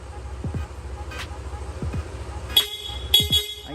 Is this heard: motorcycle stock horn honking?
yes